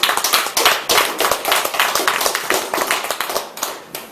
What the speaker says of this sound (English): let's give a round of applause for Toastmasters